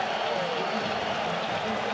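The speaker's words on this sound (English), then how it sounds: "cheering. They want Scooter on a curtain call." Reds fans at a Cincinnati baseball stadium cheering and applauding for a home-run hitter's curtain call, a steady roaring crowd wash of claps and shouts with a commentator's voice faintly over it.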